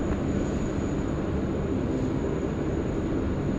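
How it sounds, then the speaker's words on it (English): Steady, loud broadband roar of a Qantas airliner's engines at takeoff power on Sydney Airport runway 16 right, continuous and sustained with no talk over it. "Qantas 419 is the retro Roo service going to Melbourne today on the milk run."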